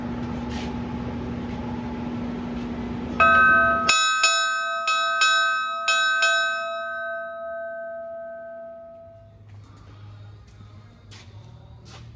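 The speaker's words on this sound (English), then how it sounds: "Let's see if I can get this bell to work." Bell on a 1930 American LaFrance 200 Series fire engine, struck about eight times in a steady rhythm with bright ringing tones that decay slowly, heard over a low engine-like hum that fades, then a quieter rumble.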